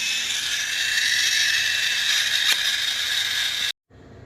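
A pepper mill grinds pepper over carbonara sauce, a continuous close scratchy grinding that runs steadily for several seconds, then stops abruptly before a faint resumption.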